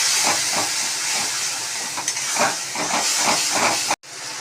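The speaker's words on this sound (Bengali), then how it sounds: "এবার আদা রসুন আর টমেটো, কাঁচা লঙ্কা পেস্টটা দিয়ে" Ginger, garlic, tomato and green chili paste hits hot oil over fried onions in a pan, a loud steady steamy hiss with pulsing bursts of sizzle, cutting off abruptly near the end.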